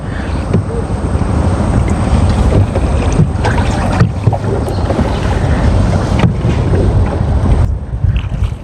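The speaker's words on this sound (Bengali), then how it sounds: "এই ছোট ভাইটি তার নৌকা দিয়ে হচ্ছে আমরা নদী পার হইতেছি" A small wooden boat crosses a river during the rainy season, with steady wind buffeting and water-vehicle rumble throughout, loud and continuous with no clear talk.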